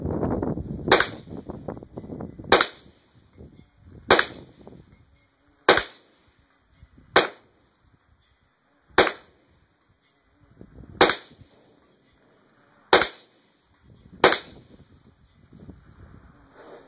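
Mossberg 702 Plinkster .22 rifle fired ten times at steady intervals of about one and a half seconds, each sharp crack followed by a brief ringing echo, with faint rustling between shots.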